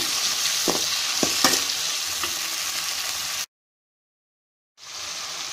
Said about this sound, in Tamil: நான் ஒரு ரெண்டு தக்காளி ரெண்டு பச்சை மிளகாய் ஆட் பண்ணுறேன் கட் பண்ணிவிட்டு இதையும் நல்லா வணக்கி விட்டுருங்க